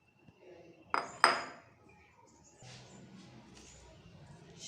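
Mushrooms are stirred into potatoes in a pan, giving a couple of sharp metallic clinks of a utensil against the pan, followed by faint, soft scraping and rustling in a quiet kitchen.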